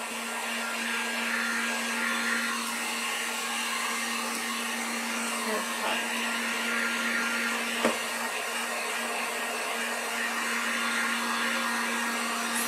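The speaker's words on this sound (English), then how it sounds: "And I'm gonna get our heat gun." Heat gun blowing to dry acrylic paint on a wooden sign, a steady, close whooshing hum with a constant tone held throughout, no speech.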